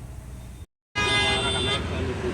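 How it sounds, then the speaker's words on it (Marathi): A car horn honks loudly and steadily in heavy traffic on a rainy morning, close by, after a brief gap, with a roadway rumble underneath. "खूप जास्त ट्रॅफिक आहे कारण पाऊस पडतोय सकाळपासून"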